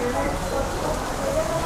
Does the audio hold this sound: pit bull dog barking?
no